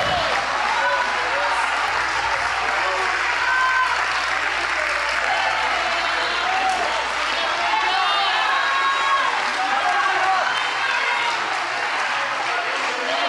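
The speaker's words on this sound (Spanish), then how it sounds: "Ponte en tus pies y dale un aplauso al Señor Jesucristo" Church congregation applauding during an evangelical service: a loud, sustained wash of many hands clapping that holds steady throughout, with a faint murmur of voices blended underneath.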